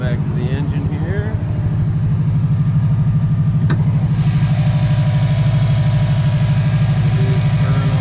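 A 2007 Subaru Impreza WRX STI engine idling steadily, a loud, even low rumble holding throughout, with a voice speaking briefly near the start.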